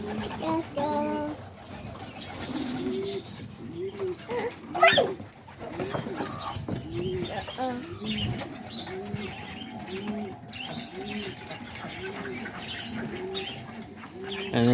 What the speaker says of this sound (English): that's a little baby pigeon